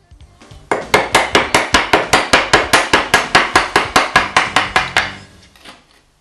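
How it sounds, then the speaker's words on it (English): Chisel struck with a mallet while cutting out a wooden housing joint, about twenty sharp, evenly spaced blows in a fast steady rhythm, close and loud, with no talking. "Chiseling is always done from the edge to the centre, turning the job in the vise as required."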